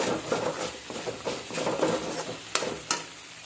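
Soybean masala is stirred in a pan with a soft continuous sizzle and rhythmic scraping strokes, plus two sharper knocks of the utensil near the end, close and moderately loud.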